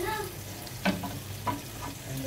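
Pieces of surmai fish, Konkani style, fry on a hot tawa with a low crackling sizzle, while a couple of soft thuds and scrapes mark them being flipped.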